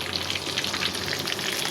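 Oil sizzles and crackles steadily in a pan of frying eggplant, a close, dense hiss with scattered pops and no voices.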